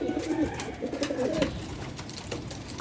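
Pigeons coo repeatedly in a loft, soft low rolling calls close by with faint background noise and no talking.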